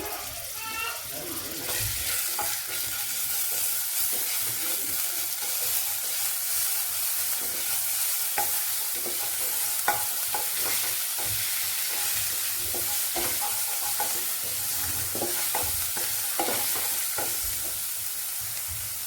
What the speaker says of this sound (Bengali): তেলটা গরম হয়ে গেছে, আমি রসুনটা দিয়ে দিলাম এতে।